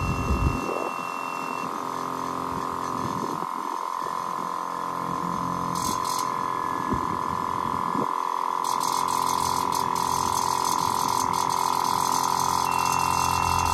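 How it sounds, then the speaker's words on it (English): A VEVOR train air horn kit's air compressor runs continuously, building pressure with a steady mechanical hum and whine, a constant drone that grows slightly harsher toward the end. "So the air compressor is going on."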